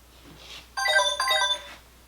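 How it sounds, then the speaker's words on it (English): A mobile phone rings in a classroom during a lecture, a short bright electronic melody of chiming notes lasting about a second, moderately loud against quiet room noise. "Seriously, who left their phone on in class?"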